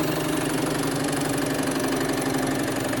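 Continuous loud motor drone with a steady mid-pitched whine and rough, knocking vibration as a boring machine cuts a bore, no pauses throughout.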